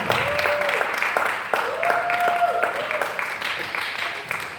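Audience clapping at a panel discussion, steady applause filling the room throughout, with a voice speaking over it at times.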